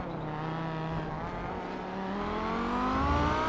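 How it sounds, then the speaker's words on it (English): Onboard Audi race car engine in the Kamel GT Championship at Circuit de la Sarthe, Le Mans, in a racing video game, a steady loud drone rising in pitch as it accelerates through the gears, with no talk. "Olenek, the car ahead that you see, in the Dirty Torque Audi"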